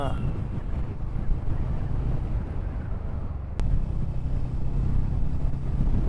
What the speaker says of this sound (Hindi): अभी तो मौसम अच्छा हो गया है, हवा ठंडी ठंडी चल रही है